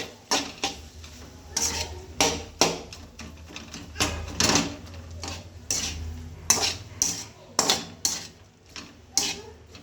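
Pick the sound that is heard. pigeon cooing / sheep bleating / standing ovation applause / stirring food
stirring food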